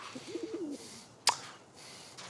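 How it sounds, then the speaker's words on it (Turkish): A pigeon gives a soft, low cooing call near the start, then a sharp click cuts in, over a faint room background. "münasebetsiz kuş milleti"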